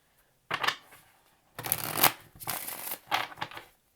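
Tarot cards shuffled by hand in quick riffled bursts, crisp and close, with brief pauses between three separate shuffles and no talking.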